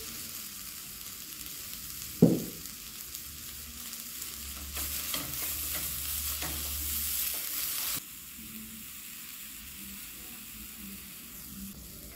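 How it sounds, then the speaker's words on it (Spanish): Nacho meat sautés in a little oil in a pan, a low, fairly quiet frying hiss with one sharp knock of a utensil early on and a louder stretch of sizzling and stirring in the middle, close by. "un poquito de aceite, no le vamos a agregar más nada. Lo vamos a sofreír por unos 2 minutos"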